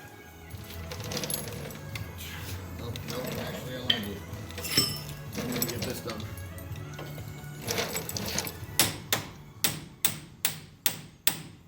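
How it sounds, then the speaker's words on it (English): Parts are being hammered out of a shop truck. Muffled clatter and a voice come first, then about six sharp, loud metal hammer blows in a steady, evenly spaced run. "We're going to hammer them right out, straight out of there."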